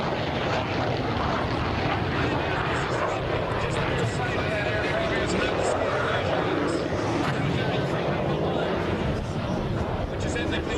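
A Navy carrier aircraft roars overhead at a 1996 air show, a loud continuous engine drone filling the whole stretch while a voice talks over it.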